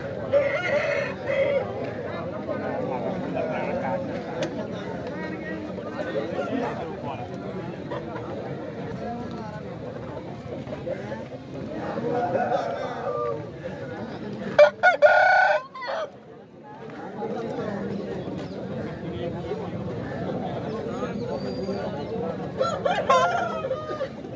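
Roosters crow and hens cluck amid a busy crowd of people chattering at a country chicken market, with one rooster's crow rising clearly above the murmur midway.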